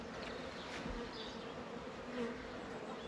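Honeybees buzzing in a hive during an early spring inspection after winter, a continuous close drone of many wings holding steady without speech.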